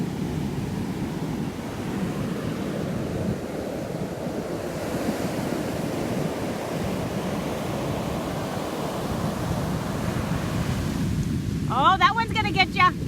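Ocean waves wash steadily onto a beach in Mexico as the tide goes out, a continuous roaring surf with wind buffeting the microphone, and a voice briefly speaks near the end.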